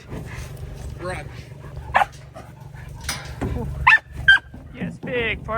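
Big farm puppy on a Wisconsin farm during chores, a few sharp barks and yips scattered through steady background noise, with people talking around it.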